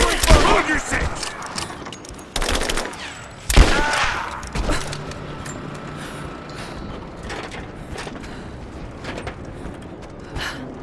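Bursts of gunfire and firefight effects from the video game Rise of the Tomb Raider, with loud cracks in the first five seconds that give way to quieter ambient game sound.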